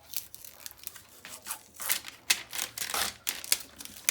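Close crackly ripping and crinkling as a small piece of tape is pulled and torn off during a diamond painting setup, in rapid uneven bursts with no voices.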